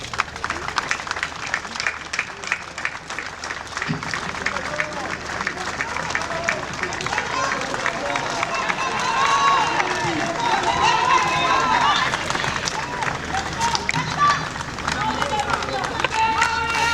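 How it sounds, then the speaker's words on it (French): Audience applause at an outdoor ceremony launching the Busanga hydroelectric plant in Lualaba: dense, continuous clapping from a large crowd mixed with cheering and babble, loud and steady throughout. "Sous vos applaudissements, s'il vous plaît."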